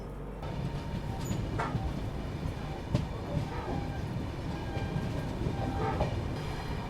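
The Prayagraj–Bikaner Express pulls out of a small two-platform station, a steady rumble of wheels and carriages with occasional clanks and clatter, close and continuous.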